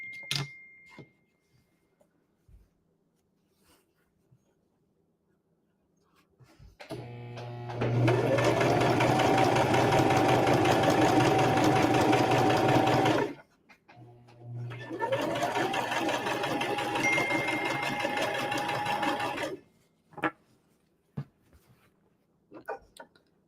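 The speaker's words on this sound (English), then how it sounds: "they go under the foot of my sewing machine" A sewing machine runs in two sustained bursts of stitching through quilt blocks, steady and close, separated by a brief pause and framed by quiet handling clicks.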